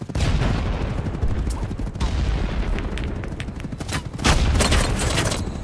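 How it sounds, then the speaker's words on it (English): A grenade blast and bursts of automatic gunfire fill a Battle Bit Remastered match, with loud, dense volleys and booms throughout and a heavy explosion near the end, under occasional voices. "Where'd that grenade come from?"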